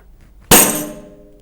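A daf frame drum is struck once with a sharp, loud hit, followed by a ringing, jangling decay that fades over about a second, with no voices.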